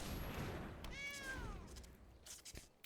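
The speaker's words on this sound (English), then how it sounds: "Meow kitty." A cat gives a single short, faint meow that rises and falls, surrounded by quiet background noise and a few soft clicks.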